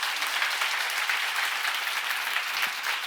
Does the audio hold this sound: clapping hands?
yes